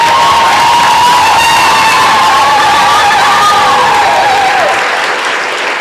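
A large audience at an event with Professor Angela Y. Davis bursts into loud applause and cheering, with sustained whoops and shouts over dense clapping that eases off near the end.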